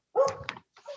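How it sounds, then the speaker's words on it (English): Dogs barking nearby in a home setting: a quick pair of short, sharp barks followed by a softer yip, close and loud with no talk over them. "Sorry about the dogs here."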